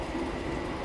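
Argo Dwi Pangga passenger train running at about 116 km/h past Wates station, a steady loud rumble of wheels and carriage noise with no voices.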